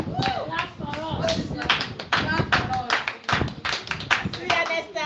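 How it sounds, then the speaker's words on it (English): A small group claps in a Montessori classroom during a math lesson, with quick irregular claps and taps close by and voices talking over them throughout. "So clap for me."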